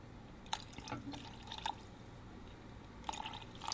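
Water is trickled into a thickened ethanol gel, giving faint, sparse drips and small splashes at irregular intervals against a quiet background.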